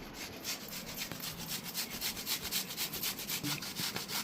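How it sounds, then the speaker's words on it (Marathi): Jaggery is grated by hand in quick, rhythmic rasping strokes that run steadily and close up, with no talk. "डाळ शिजूस्तोवर गुळ किसून घेऊया."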